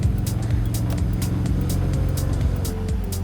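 A Nissan 300ZX engine runs while driving, a close, steady low drone with shifting pitch and occasional sharp clicks and ticks over the top, no voices heard.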